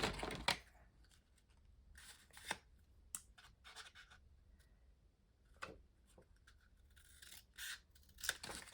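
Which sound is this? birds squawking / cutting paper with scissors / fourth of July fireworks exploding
cutting paper with scissors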